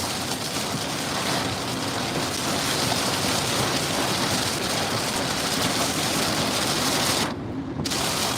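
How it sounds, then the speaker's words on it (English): Heavy rain drums steadily and loudly on a car roof near Waco, Texas, a dense unbroken patter that fills the whole stretch with no voices. "hopefully this rain isn't that loud"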